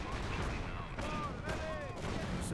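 Distant artillery and gunfire rumble through a World War II battle in Company of Heroes, with dull booms blending into continuous battlefield noise and whistling tones overhead.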